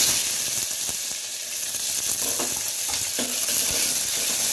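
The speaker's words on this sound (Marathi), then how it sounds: "थोडीशी मोहरी टाकून घेऊया आणि आता कापलेला कांदा टाकूया" Chopped onion hits hot oil that already holds mustard seeds, cumin and curry leaves for masala rice. It gives a constant bright sizzle, with occasional spoon scrapes and stirring knocks close up.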